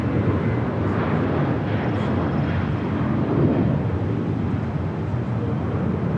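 A Southwest Airlines Boeing 737-700 takes off at LAX, its jet engines giving a loud, broad, steady roar that swells slightly in the middle and holds throughout.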